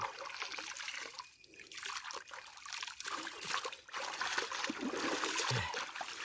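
Water trickles and dribbles steadily at a cliff in the wild, a soft continuous flow with small splashes, fairly close but quiet, with faint movement around it.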